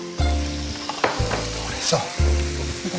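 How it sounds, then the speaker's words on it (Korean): Squid rings are stir-fried over high heat in a pan, sizzling loudly with rhythmic bursts as the pieces are tossed and stirred, while a voice speaks briefly over it. "센 불에서 잠시 볶아서 오징어 링 모양이 살아나죠."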